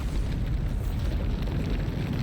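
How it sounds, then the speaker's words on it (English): Bombarda spell explosion in the video game Hogwarts Legacy, a loud, sustained booming blast with heavy rumbling low end and crackling debris filling the whole moment. "big explosion."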